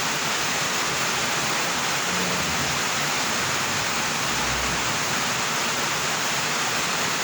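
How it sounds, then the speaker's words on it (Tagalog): Steady, heavy rainfall fills the whole clip with a dense, even hiss, broad and constant with no pauses and no voices. "Tuloy-tuloy ang ulan."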